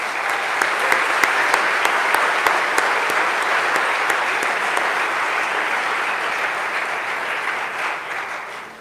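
A large congregation at a Year 12 graduation Mass gives the graduates a round of applause: dense, sustained clapping that fills the room evenly, with a few sharper individual claps on top, fading slightly at the end.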